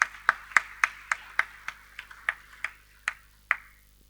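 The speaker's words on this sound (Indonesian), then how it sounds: "Tepuk tangan untuk Tuhan." A congregation in a church claps for God in sharp, evenly spaced claps, roughly three per second, each ringing briefly in the room, with the last ones easing off.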